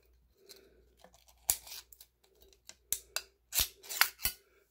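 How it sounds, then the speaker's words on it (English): Thin metal being peeled away from the top of a Mountain Dew can: a series of short, sharp crinkling tears and snaps, close and fairly loud, spaced irregularly with quiet gaps between bursts. "you can actually kind of peel the metal away from the top"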